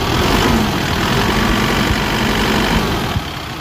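A car engine runs close by with a steady, loud mechanical drone while the accelerator is pressed during an AC gauge and expansion valve test, holding level and then easing slightly near the end, with no talking.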